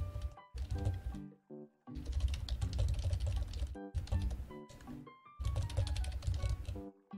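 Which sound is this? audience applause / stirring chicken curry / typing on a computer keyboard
typing on a computer keyboard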